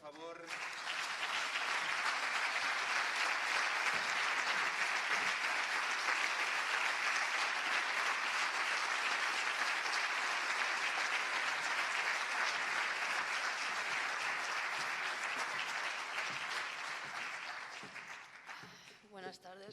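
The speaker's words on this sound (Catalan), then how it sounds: "Un aplaudiment, per favor." An audience at a sports award ceremony applauds in a long, dense, steady wash of clapping that holds evenly for most of its length before fading out near the end.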